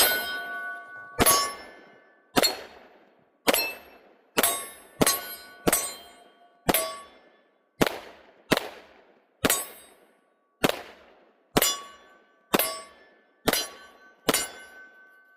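Taurus TH10 10mm pistol firing 180 grain MagTech rounds outdoors: about fourteen sharp single shots at uneven intervals, each ringing out and decaying, with no talking.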